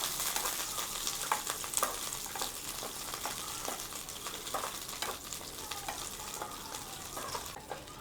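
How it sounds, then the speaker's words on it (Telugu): Green chillies fry in hot oil in a pan after chana dal, giving a steady crackling sizzle with scattered pops and occasional stirring scrapes, close and moderately loud. "ఇప్పుడు దాంట్లోనే కొన్ని పచ్చిమిరపకాయలు అయితే వేపుకున్నామండి"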